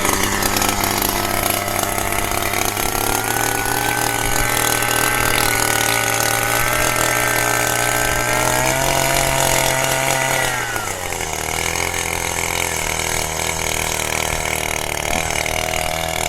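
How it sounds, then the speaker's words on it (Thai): Loud petrol engine of a Newborn M52 wheeled earth auger running steadily while drilling holes in soil, pitch dropping as the engine slows midway and then holding at a lower idle-like drone. "ก็เป็นการทดลองเจาะหลุมครับ"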